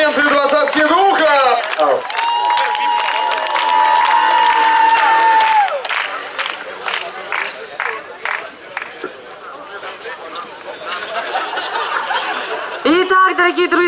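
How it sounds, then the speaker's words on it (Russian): Crowd in an auditorium at a student comedy contest among young nuclear-industry workers, 2011, cheering with whoops and scattered laughter, then breaking into loud rhythmic clapping before it tails off and swells again. "Ваши аплодисменты, двадцатки духа!"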